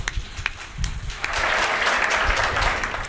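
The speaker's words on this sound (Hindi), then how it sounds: "तालियां बहुत कमजोर पड़ गई हैं आप" Audience at a Hindi comic poetry recital, scattered claps at first, then swelling at about the midpoint into full, loud, sustained applause that continues to the end.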